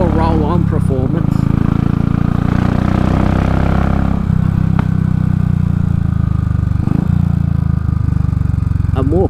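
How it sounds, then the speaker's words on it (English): Royal Enfield motorcycle running with a Race Dynamics Powertronic tuning module, its loud steady exhaust drone continuous throughout with a few revs rising over it. "A more purposeful sound, less popping and farting through the exhaust."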